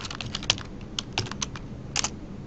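Code being typed on a computer keyboard: quick bursts of crisp, close key clicks with short pauses between runs.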